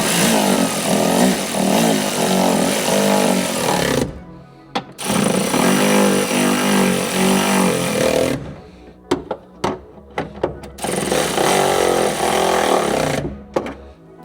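Cordless battery impact tool nipping up rear shock absorber bolts on a Land Rover Freelander 2, loud buzzing bursts of several seconds separated by short pauses and a few quick clicks and clatters.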